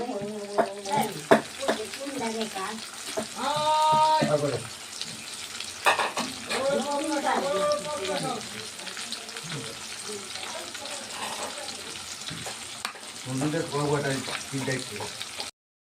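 Cumin paste frying in hot oil and being stirred makes a low, busy sizzle with occasional scrapes, while a person talks over it at several points.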